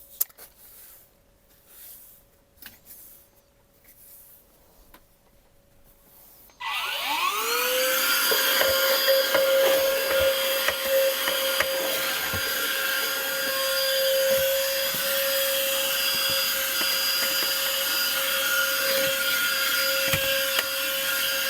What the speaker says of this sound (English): I need to give this place a little sweep and vacuum just to start the day off fresh